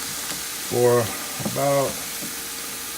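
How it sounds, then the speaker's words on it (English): Onions, chili peppers and garlic sauté in olive oil for a crock pot chili, giving a steady close sizzle throughout, with a voice speaking briefly over the pan twice. "our chili peppers, and our garlic. And we're going to saute this for"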